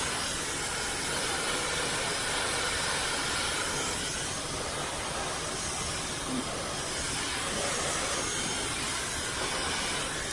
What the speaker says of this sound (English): The Dyson is super quick.